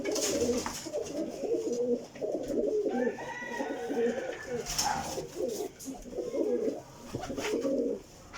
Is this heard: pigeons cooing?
yes